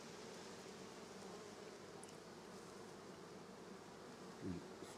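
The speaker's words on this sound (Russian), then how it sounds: "Спокойные, черненькие пчелики" A newly settled swarm of calm black bees buzzes inside a hive, a soft steady drone that stays faint throughout, with one brief closer hum near the end.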